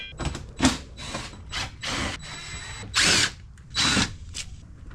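Several short whirring bursts from a power tool setting rivet nuts into the skid plate of a 2010 VW Jetta TDI (MK6), each spin-up close and loud, separated by brief quieter pauses with handling noises.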